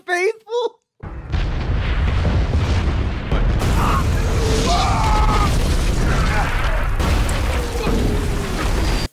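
Bombing explosions from the TV series The Pacific set in a nighttime WWII war scene: after two brief voices, a sustained loud rumble of blasts and booms runs continuously for about eight seconds, with distant cries under the din.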